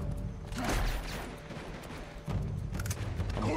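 Minigun in Uncharted 2: Among Thieves firing in sustained bursts, a dense rattling roar that swells, dips midway, then surges again, loud and close with no talk over it.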